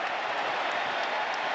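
A large indoor basketball arena crowd cheers and applauds, a steady wash of noise at moderate distance, during Game 1 of the 1992 NBA Finals, Blazers vs Bulls.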